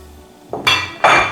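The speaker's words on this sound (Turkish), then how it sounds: "Cevizlerimi de şöyle şöyle kırayım." Walnuts cracked by hand in a kitchen while preparing a cabbage salad and eggplant meze, giving two sharp, close cracking clinks in quick succession, with no talking.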